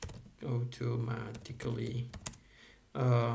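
Quiet keyboard typing clicks while code is entered to set properties for plot subplots, mixed in under a man's steady speech.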